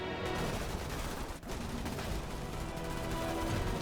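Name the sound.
gunfire in video game Starship Troopers Terran Command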